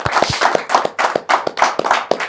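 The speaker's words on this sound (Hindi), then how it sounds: "तालियां बजाओ यार, पहली बार आया भाई" A few people clapping hands in a cricket talk-show studio, about a dozen sharp, close claps in an uneven burst lasting a couple of seconds.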